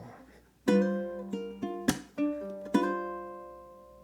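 A ukulele plays the first half of a song's riff slowly, about six crisp plucked hits spaced unevenly, each ringing out before a long fading final note, alone without voices.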